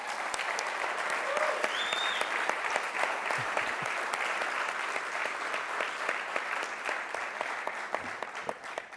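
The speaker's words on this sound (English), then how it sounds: "So please give me a round of applause to everybody who's there." An audience at an entrepreneur pitch event applauding the participants, a dense steady wash of many hands clapping throughout, with faint voices and a whistle briefly rising over it.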